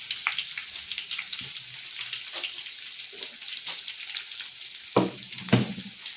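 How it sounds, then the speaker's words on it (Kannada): Cumin, curry leaves and onion sizzle in a hot pan for a vegetable palya, a soft steady frying hiss broken by a few sharper clinks and scrapes near the end. "ಈಗ ಕರ್ಬೇವಿನ ಸೊಪ್ಪಾದರೆ ಹಾಕ್ಕೊಂಡ್ವಿ, ಹಾಗೆ ಈರುಳ್ಳಿ ಕೂಡ ಇದರೊಳಗಡೆ ಹಾಕ್ಕೊತಾ ಇದ್ದೀವಿ"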